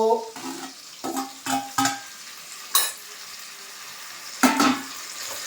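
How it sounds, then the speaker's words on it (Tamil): Tomatoes and onions frying in a pan give a low sizzle with a handful of scraping stir strokes and clinks at uneven intervals, close by, no talking. "தக்காளியை போடு, கிண்டுங்கோ. தக்காளி நல்லா வதங்கிடுத்து."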